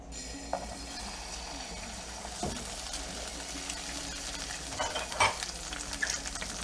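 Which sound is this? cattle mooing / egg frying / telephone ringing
egg frying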